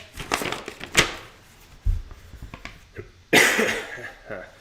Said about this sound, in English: I'm trying not to cough on camera too much.